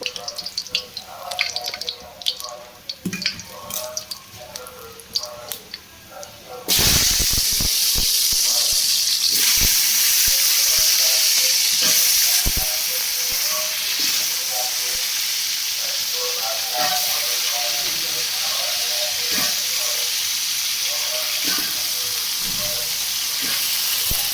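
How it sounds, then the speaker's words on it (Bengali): Potatoes and eggs frying in a pan, first a few clatters and handling sounds, then a loud, dense, continuous sizzle that holds steady to the end. "আলু আর ডিমটা ফ্রাই করবো"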